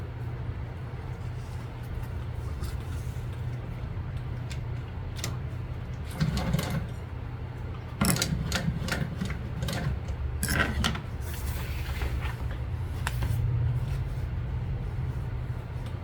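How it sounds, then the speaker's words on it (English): A sewing machine stitches a zipper onto vinyl with a steady low mechanical hum throughout, broken by a few bursts of faster, rattling stitching, close and moderately loud. "we're going to sew right there on that edge."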